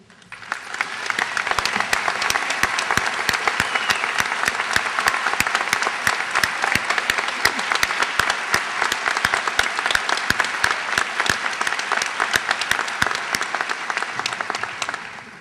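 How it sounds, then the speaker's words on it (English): Sustained applause from a large audience at a college commencement ceremony, steady and dense clapping that swells in and continues throughout before tapering at the end. "I invite the audience to join me in a round of applause for SCF's finest, the faculty."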